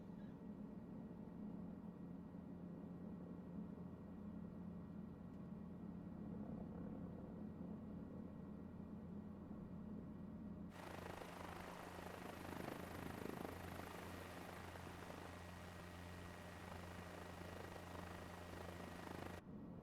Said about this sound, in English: It's a French helicopter, loads of fun, and quite nice to use